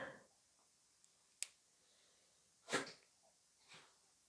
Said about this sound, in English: Bless you, Lucky.